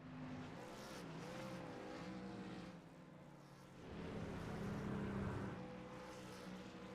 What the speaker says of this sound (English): Couple of dueling burnouts down the front straightaway, father and son.